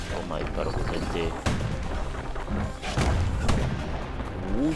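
Powerful weapon shots in the action game Bastion land as a few heavy booms and thuds over busy game music and effects.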